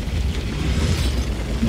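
A tank main gun fires in World of Tanks, a loud, dense low rumbling blast that fills the short moment with heavy booming energy and no talk over it.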